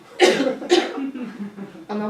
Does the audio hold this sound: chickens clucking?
no